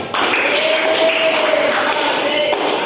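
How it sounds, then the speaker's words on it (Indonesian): Classroom group applauding together, a loud, steady burst of close clapping that holds evenly for a few seconds. "Boleh tepuk tangan untuk kita semua"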